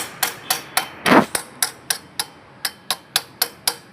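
Metal hammer striking a two-stroke petrol engine part in a mechanic's workshop, about fourteen sharp, evenly spaced blows with one heavier scraping hit, close and without talk.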